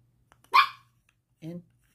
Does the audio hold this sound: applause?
no